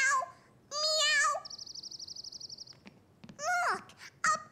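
Cartoon children pretend to be cats, voicing meows in short bursts, with a steady warbling whistle-like tone in between and more childlike voices following; the voices are imitating cat meows.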